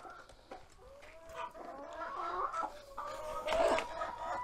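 Broody hens cluck and croon in a low, drawn-out, throaty way, several birds close by with a busy farmyard feel and no talking.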